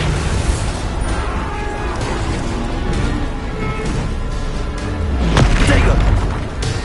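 Bombarda spell explosions in the video game Hogwarts Legacy, booming bursts set in a dense, continuous wash of game noise, with the strongest blast arriving near the end.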